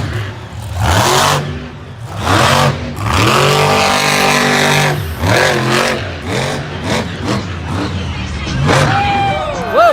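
Monster Mutt Dalmatian monster truck revving hard during a freestyle run at a Las Vegas Monster Jam stadium show, loud engine roaring and surging in bursts with commentary talking over it throughout.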